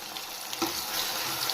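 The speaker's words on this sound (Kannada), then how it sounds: "ಪುದೀನ ಫ್ಲೇವರೆಲ್ಲ ಹೋಗೋ ರೀತಿ ಚೆನ್ನಾಗಿ ಹಸಿ ವಾಸನೆ ಹೋಗೋವರೆಗೂ ಚೆನ್ನಾಗಿ ಫ್ರೈ" Ground masala paste for vegetable pulao sizzles and fries steadily in a pan, with a brief stir or scrape partway through; close and continuous, with no talk.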